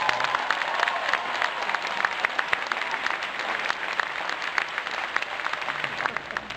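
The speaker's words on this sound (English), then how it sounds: "Please give Cornel West a big round of applause." Audience applause for Cornel West at a Barack Obama event in Harlem, New York: a dense, steady wash of clapping from a large crowd, sustained and even throughout with scattered sharper claps.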